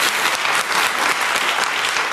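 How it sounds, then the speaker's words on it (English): A live studio audience at a comedy talk show breaks into steady, dense applause, a continuous wash of many hands clapping close and loud throughout, with no voices over it. "He's safe to clap there."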